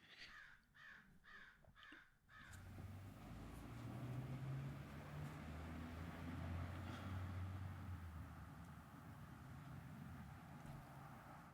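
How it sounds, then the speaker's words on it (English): Steady outdoor ambience of rain dripping off a roof and spattering onto the ground, with low rumbles of cars passing and a few caws and bird calls at the start. "hear the birds chirping and the raindrops off of the roof back here hitting the ground and cars driving by"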